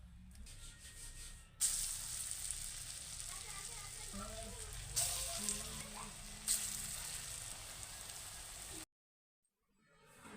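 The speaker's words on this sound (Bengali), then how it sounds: "এখন আমি বড়াগুলো ভেজে নেব" Lentil fritters fry in hot oil in a pan, a soft continuous sizzle with a few louder bursts as batter drops in, cutting off abruptly near the end with no talking.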